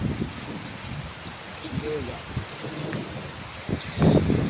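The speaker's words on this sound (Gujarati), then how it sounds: "વરસાદ આવી ગયો છે ખતરનાક આવ્યો" Heavy rain with thunder: a dense hiss of falling rain with low rumbling bursts and gusty thumps, close and loud, with a voice talking over it.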